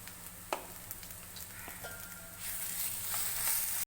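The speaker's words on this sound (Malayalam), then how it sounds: "1/2 ടീസ്പൂൺ മഞ്ഞൾപ്പൊടി ഇട്ട് ഇളക്കി കൊടുക്കാം" Onions frying with curry leaves and turmeric in a pan for an old-style toddy-shop chicken curry, giving a steady close sizzle with a few light scrapes of stirring that swell slightly louder toward the end; no talking.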